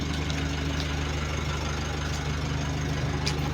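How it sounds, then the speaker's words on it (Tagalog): An engine idles with a continuous low rumble and an even, faintly knocking pulse that holds steady and close, with no voices. "Nakaandar ang makina."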